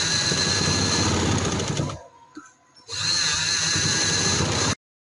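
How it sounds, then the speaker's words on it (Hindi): Sewing machine stitching a line along lace: a loud, close, steady mechanical whirr that runs for two seconds, cuts out briefly, then resumes at full speed before stopping abruptly, with no talking. "इसके इस साइड पे हम सिलाई लगाएंगे"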